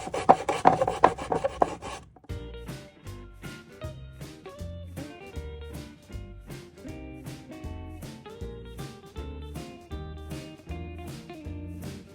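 80-grit sandpaper rasps across a surface in quick, even back-and-forth strokes, close and steady after a brief louder scuffing at the start.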